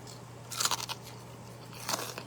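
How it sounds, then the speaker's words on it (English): Crisp crunching bites into freshly fried chicken wing tips, two distinct bursts of crackly crunch about a second apart, close and clear against a quiet background. "Y'all hear that crunch?"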